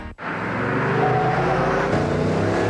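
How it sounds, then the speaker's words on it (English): A Hemi-powered Jeep Grand Cherokee engine drones steadily and loudly, holding a full, even roar from start to finish with no talking. "the all-new Hemi-powered Jeep Grand Cherokee conquers the road like a sports car"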